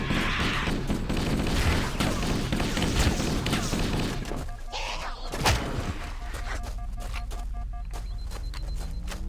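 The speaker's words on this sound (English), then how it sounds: "The grenades combo exploded." Grenade explosions in Halo: Combat Evolved firefight: a dense barrage of loud bangs and gunfire, then one heavy thump as the grenades go off together, fading into a quieter rumble.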